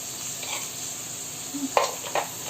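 Onions sizzle steadily in oil for a tamarind-based taro curry, a constant hiss with a few sharper spatula scrapes near the end, fairly close.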